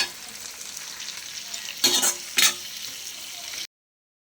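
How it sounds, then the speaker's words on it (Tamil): Onion, tomato and green chillies sauté in a hot pan with a steady sizzle and fry, broken by two brief louder bursts as the ingredients are stirred, with no talking. "2 பச்சை மிளகாய், வெங்காயம், தக்காளி போட்டு வதக்கணும்"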